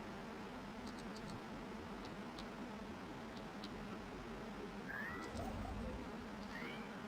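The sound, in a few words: cat meowing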